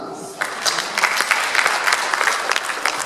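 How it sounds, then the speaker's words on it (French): A church audience at an Advent recollection with Father Patrice Belem breaks into applause after a quiet start. The clapping is close and fairly loud, with sharp individual claps standing out, and lasts about two and a half seconds. "on va applaudir pour ça"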